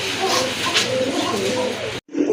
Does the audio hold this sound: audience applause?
no